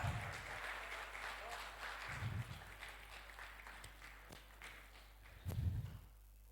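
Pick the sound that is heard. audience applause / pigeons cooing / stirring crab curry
audience applause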